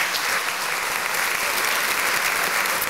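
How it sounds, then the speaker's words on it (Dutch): Audience applause at a Dutch panel forum, steady dense clapping from a crowd filling the whole stretch at an even level, with no talk over it. "Geef ze een applaus."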